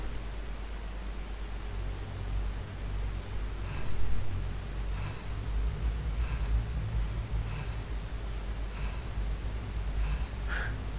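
Heavy, rhythmic breathing from the neighbor character in a Hello Neighbor mod game, about six evenly spaced breaths over a steady low ambient hum, with no talk.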